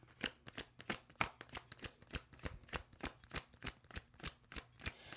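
A deck of tarot cards being shuffled close up, with rapid, evenly spaced riffling snaps that continue throughout in a steady rhythm and no talking.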